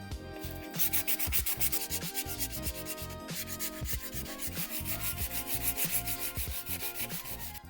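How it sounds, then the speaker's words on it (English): A brake caliper on an E92 M3 is sanded by hand with 180 grit sandpaper, a loud, close, steady back-and-forth scratchy rasp of rapid repeated strokes throughout, with no talking. "We're going to use 180 grit to get rid of any rough areas and 320 to smooth everything over."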